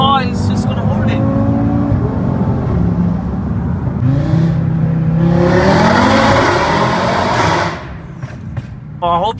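A Stage 2 tuned Audi RS3 accelerates hard from inside the cabin, its loud five-cylinder engine climbing steadily through the revs with gear changes before easing off, a voice briefly audible near the end.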